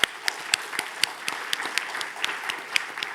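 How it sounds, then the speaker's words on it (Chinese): An audience applauds the guests of a panel discussion on globalisation, a moderate patter of scattered claps from a modest crowd in a conference hall. "大家也可以给在座的所有的嘉宾一些掌声的这个鼓励"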